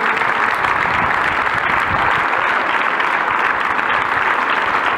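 An audience claps together in a thank-you for volunteers in Santhià, producing a dense, loud, continuous wash of applause that holds steady from start to finish with no pauses.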